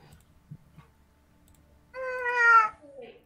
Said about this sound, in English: My cat is at the door.